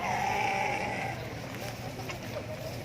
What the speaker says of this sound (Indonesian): Nah, ini kambing Arab.